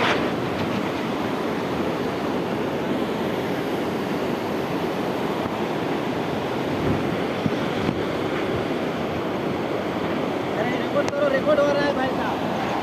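A small river in Nepal rushes along steadily with a broad, continuous watery roar, loud and close throughout, while people talk faintly in the background.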